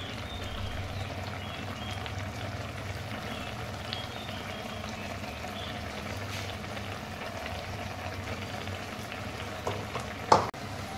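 Luffa fritters cooking in a pan, giving a steady low frying and bubbling hiss that runs evenly throughout, with a brief clatter near the end and no voices.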